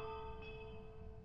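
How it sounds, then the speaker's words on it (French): A bell rings inside the Phasmophobia video game, a steady sustained tone with lingering resonance heard close and clear for about a second, with no talking. "Il y a une belle cloche ici."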